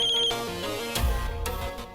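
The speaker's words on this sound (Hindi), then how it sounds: "एक मिनट, देखिए एक फोन आ रहा है" A phone rings with a bright electronic tone, first as a high steady beep and then as a melodic ringtone pattern over background music, fairly loud.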